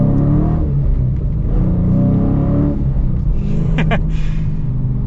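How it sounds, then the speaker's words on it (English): A manual Dodge Challenger Scat Pack pulling away from a full stop, its deep engine rumble climbing in pitch through the revs, dropping briefly at a gear change, then rising again, loud from inside the cabin. "I'm gonna come to a full stop even though I don't have to because of a green light, so we can kind of get a full-blown acceleration here"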